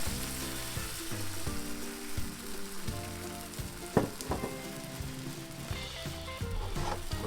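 A single egg frying in a buttered pan for a French toast breakfast sandwich, giving a steady close sizzle with light crackles and a couple of sharp utensil clicks, plus a faint musical tone underneath.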